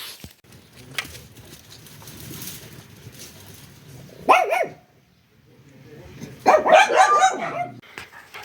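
Dogs bark in two loud bursts, close by, with quieter yips and whimpers in between.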